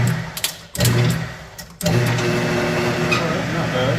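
Rusty rim clamp tire changer machine with its table spinning, a close mechanical whir that cuts in and out in short bursts before settling into a steady hum.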